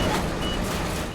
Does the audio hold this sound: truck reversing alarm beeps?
yes